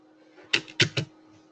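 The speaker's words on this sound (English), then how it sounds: "Now I'm clicking on it, but nothing's happening." Three sharp, separate clicks of a computer mouse, close by and fairly clear, spaced unevenly against a quiet room hum.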